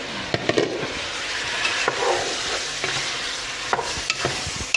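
A spoon stirs pork sinigang with tomato and onion in a pot, close and fairly loud, with irregular scraping strokes and several sharp clacks against the pot over a bubbling background, no voices.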